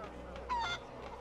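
Chicken or fowl squawking in the video game Assassin's Creed III Liberation, a short honking cluck rising briefly over a quiet in-game background.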